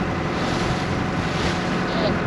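Strong, constant wind buffets a microphone on a boat in harbour, a dense roaring rush that never lets up across the short stretch, loud and close with no distinct voices.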